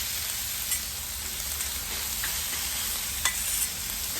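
Butter sizzles and crackles steadily on a hot Blackstone flat-top griddle, a continuous close frying hiss with a few sharper pops and spatters throughout, and no voices.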